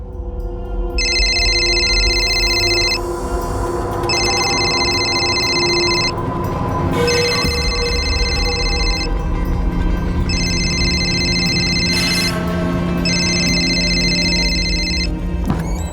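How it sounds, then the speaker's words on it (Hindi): A phone ringing unanswered, five evenly spaced electronic ring bursts, each about two seconds long, over a loud dramatic background score. "रिंग जा रही है, कोई पिक नहीं कर रहा है सर"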